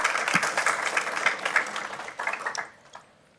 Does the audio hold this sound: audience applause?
yes